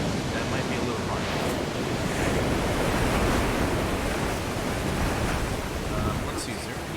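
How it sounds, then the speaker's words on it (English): Ocean waves wash steadily along a shore in the horror video game Call of Cthulhu: Dark Corners of the Earth, a loud, continuous roar of surf and wind that fills the whole scene. "Hopefully you're able to hear me over the ocean's waves."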